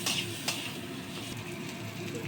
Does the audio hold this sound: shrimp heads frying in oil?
yes